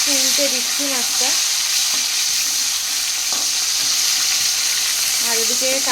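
Fish frying one piece at a time in hot oil in a kadai, a steady loud broadband sizzle throughout with a brief scrape as a piece is flipped, and a few short voiced sounds rising above it.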